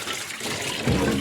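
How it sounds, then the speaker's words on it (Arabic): Tap water runs and splashes briefly as taro is washed under it, a short gushing rush that swells louder near the end. "وهبتدي اغسل القلقاس"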